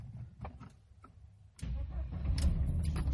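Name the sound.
1997 Mercedes-Benz W124 E220 engine starting with original key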